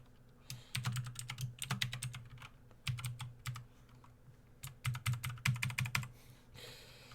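Keys typed on a computer keyboard during a password entry at an electronics workbench, with a soldering iron nearby: irregular bursts of close, crisp clicks in quick runs separated by short pauses, with a steady low hum underneath.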